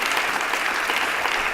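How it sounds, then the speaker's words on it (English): An audience claps steadily after a health policy panel discussion, a dense, even roar of applause that holds at full strength throughout. "We can have a round of applause for them."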